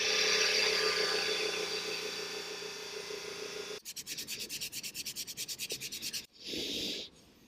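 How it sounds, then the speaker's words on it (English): Flap wheel on a grinder sanding surface rust off bare metal on a Mk2 Ford Escort body, a steady abrasive whine and rub that turns into rapid rhythmic pulsing passes, then one last short burst, close and loud. "I'm going to give it another little tickle with the flat wheel just to remove any surface rust that might have started overnight"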